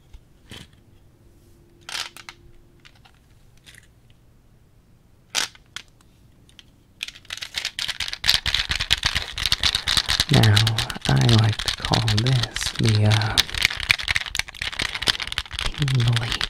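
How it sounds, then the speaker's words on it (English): Sparse taps and soft clicks give way to dense, fast clattering keystrokes on a typewriter-style keyboard, close and crisp, with quiet whispered talk over parts. "This is the tingliest typer that I own."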